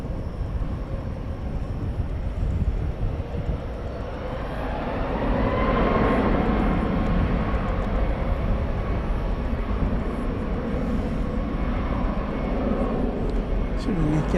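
An American Airlines jet takes off at DFW Airport at night, a broad engine roar that builds and swells midway and holds steady, with faint radio chatter in the background.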